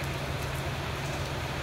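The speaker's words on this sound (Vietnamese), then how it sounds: "Hiện tại ở ngoài trời mưa rất là nhiều nha" Heavy rain falling outdoors in rural Ca Mau, a steady dense hiss of rainfall with a low rumble underneath, continuous and close, with no voices.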